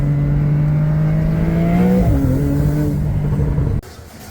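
A BMW E30's engine holds a steady, loud idle and then swings through a rev whose pitch rises and dips before settling, cutting off abruptly near the end with no talking over it.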